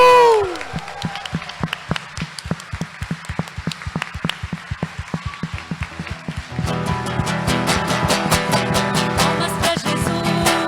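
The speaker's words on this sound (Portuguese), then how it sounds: "Palmas pra Jesus, palmas pro Senhor, palmas pra Jesus, palmas pro Senhor." Congregation at an Easter Sunday Mass in church clapping along in rhythm, sharp regular beats that thicken into fuller, louder clapping over music and singing in the second half.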